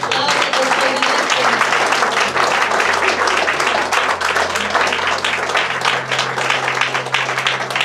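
Congregation applauding the Lord at a deliverance church service, a loud, continuous wall of dense clapping that holds steady throughout, with a low hum underneath.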